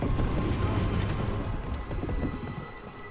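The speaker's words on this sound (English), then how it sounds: "Raining again." Steady rain in the fantasy video game Dragon Age: The Veilguard, a dense, continuous wash of falling drops that stays fairly loud throughout and eases only slightly toward the end, with no talking.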